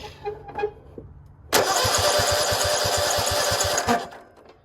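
A Cub Cadet RZT50 zero turn mower engine cranking and starting, a loud rhythmic starter churn for about two seconds, after a few quiet clicks and taps from work on the machine.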